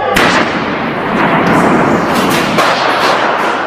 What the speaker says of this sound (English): The halls of Parliament exploded with gunfire